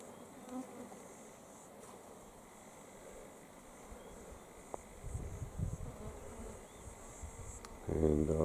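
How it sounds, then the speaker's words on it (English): Bees and wasps buzzing along the edge of a pond with dragonflies in the Australian bush, a steady soft insect drone close by with a louder buzz passing near the end. "lots of dragonflies and wasps and bees along the edge"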